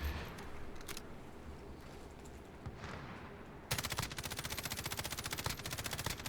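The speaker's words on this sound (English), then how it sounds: "Some long range shots in here." Rapid automatic fire from an M13 rifle in Call of Duty Warzone, a dense sustained burst of sharp, evenly spaced shots starting abruptly after quieter in-game ambience, loud and near.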